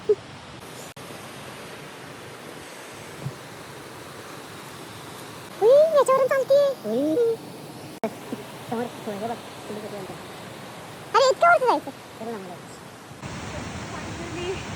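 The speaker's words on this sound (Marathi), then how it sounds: "आम्ही पोहोचलोय धबधब्याकडं" A forest waterfall produces a steady, broad rushing roar throughout, with people talking over it at moments.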